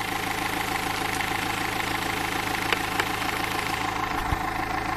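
Renault Scenic 1.5 dCi diesel engine idling with an HHO tube fitted into the intake, a steady low rumbling drone with a faint knocking texture, even and unchanging throughout, with a few small clicks and no speech.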